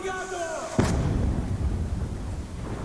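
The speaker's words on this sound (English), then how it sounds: "Okay, mortars again." Mortar fire in the video game Call of Duty: Black Ops 2 lands as a single sharp booming impact with a rumbling tail, cutting into a tonal game sound, while voices talk around it.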